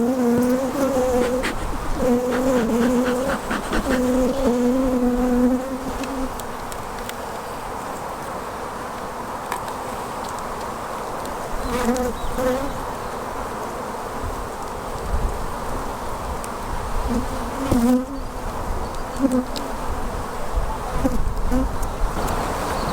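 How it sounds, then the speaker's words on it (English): Honey bees buzzing steadily in an opened hive across the frames, a dense close drone with shifting tones and occasional louder passes, a faint voice now and then. "we've got bees across all of the frames here"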